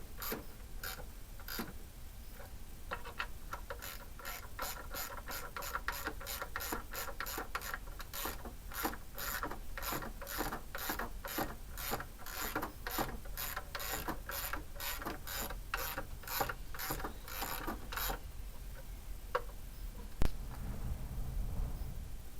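Ratchet tightening four 10mm bolts on a 2003 Oldsmobile Alero coil pack, a long run of rapid, close, crisp clicking bursts that repeat steadily and then stop near the end.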